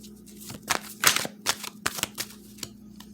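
A deck of tarot cards is shuffled by hand close up, making crisp, irregular riffling flutters and soft slaps in quick bursts over a low steady hum, with no talking.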